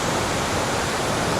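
Cumberland Falls in Kentucky roars as a steady, dense wash of falling water after rain, a continuous broadband rush with no breaks or voices.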